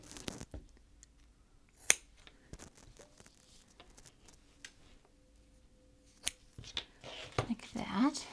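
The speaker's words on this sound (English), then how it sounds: "So I'm gonna cut 2 pieces of elastic." Scissors snip through black strap elastic in a few sharp, close cuts scattered among quiet handling noises, with a voice speaking softly now and then.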